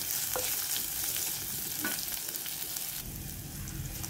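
Curry leaves fry in hot oil in a pan while being stirred, giving a continuous close, crackling sizzle with occasional spatters and scraping, with no talking.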